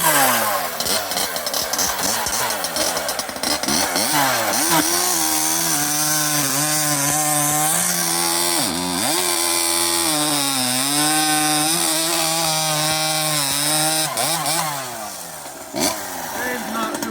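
A Husqvarna 372XP chainsaw with a carbon fiber build and redesigned exhaust pipe cuts wood nearby, a loud sustained snarl whose pitch bogs and recovers under load, with brief dips between cuts.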